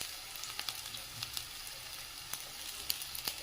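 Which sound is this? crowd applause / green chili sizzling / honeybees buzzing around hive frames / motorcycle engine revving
green chili sizzling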